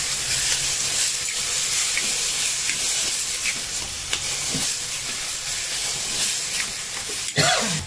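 Tomatoes sautéing in a pan for a Maharashtrian chana usal, a steady close sizzle and hiss with occasional stirring scrapes and a brief louder clatter near the end, no talk.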